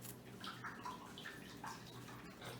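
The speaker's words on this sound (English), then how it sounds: "now I'm gonna clean that brush" A watercolor flat brush is swished and rinsed in a container of water, giving a soft, continuous sloshing and light splashing close by, with no talking.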